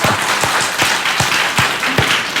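A church congregation applauding during a Korean worship service, several quick bursts of clapping in an even, rhythmic beat that repeat about every half second, loud and close.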